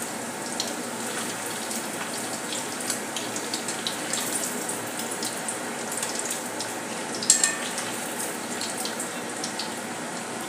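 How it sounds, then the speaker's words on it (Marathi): Two roll samosas deep fry in hot oil, a steady close bubbling hiss that runs unbroken, with one small sharp clink partway through and no voices. "अशा प्रकारे तळून घेत आहोत."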